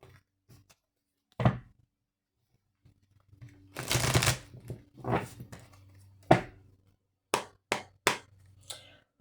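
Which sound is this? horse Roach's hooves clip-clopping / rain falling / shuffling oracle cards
shuffling oracle cards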